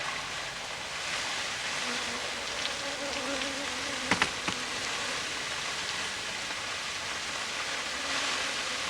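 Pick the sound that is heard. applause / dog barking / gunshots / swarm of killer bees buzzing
swarm of killer bees buzzing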